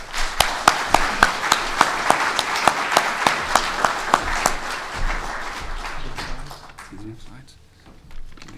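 An audience applauds to welcome a history lecturer at a talk on the Alamo, the clapping dense and steady for about five seconds before it thins out and a few murmurs take over.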